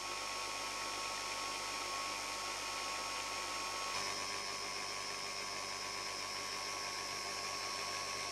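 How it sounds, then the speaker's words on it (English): A Bosch PBD 40 drill press runs after a chuck change, giving a steady, even, whining mechanical hum at one constant speed throughout, close and alone with no voices. "Same drill and same speed"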